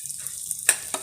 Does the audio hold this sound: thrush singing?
no